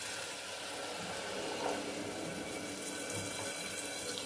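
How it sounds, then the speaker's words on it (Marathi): A glass of water poured into a pot of amti curry makes a soft, steady splashing pour that runs continuously for a few seconds, close and fairly quiet. "ह्याच्यामध्ये आपण आता 1 ग्लास पाणी टाकून देऊया।"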